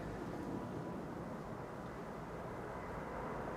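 A KLM Boeing 787-10 airliner departs Amsterdam Schiphol, heard as a steady low engine roar at a moderate distance, broad and even throughout with no voices.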